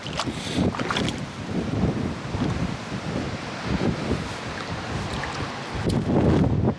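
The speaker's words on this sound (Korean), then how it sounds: "바람이 아주 쌩쌩 소리가 많이 납니다" Strong wind on a Jeju seaside roars steadily into the microphone, buffeting and gusting in waves with a low, rumbling rush and no voices.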